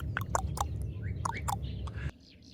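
Birds outside a safari tent in Africa give quick, sharp chirps and warbling calls close by, over a low background rumble, with a few thinner calls after the rumble cuts out.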